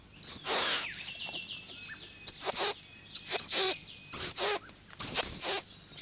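Calls of a male bowerbird at his bower decorated with bones and snail shells, a series of bright chirping and whistling bursts repeating in irregular clusters, fairly close against a quiet outdoor background.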